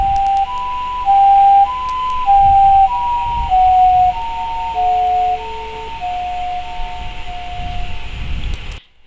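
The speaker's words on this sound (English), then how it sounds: "an ambulance is coming towards you" An ambulance siren wails in a repeating two-tone pattern, loud and close, its pitch dropping as it passes by.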